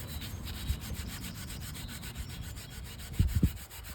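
A 3M pad loaded with finish rubs across outdoor furniture in a quiet, steady scrubbing rhythm, close and soft, with a couple of light knocks near the end and no voices.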